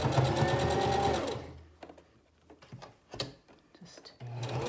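A sewing machine stitches a pleat in a fabric face mask, a loud rapid mechanical run that stops abruptly, followed by quiet handling clicks before the motor starts up again.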